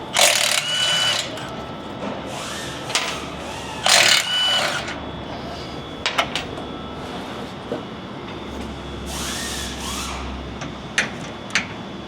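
A 10 mm socket spins skid plate bolts out under a 1999-2010 Ford Super Duty crew cab during a fuel tank install. Several loud whirring bursts are separated by scattered clicks and clanks, with steady shop background noise.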